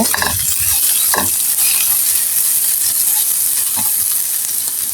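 Sweet pumpkin bhaji sizzling steadily in a pan, with a constant hiss of frying and a few close scraping stirs early on and near the end, loud and without talk.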